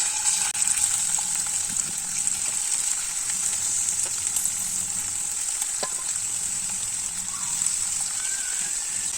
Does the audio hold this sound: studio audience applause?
no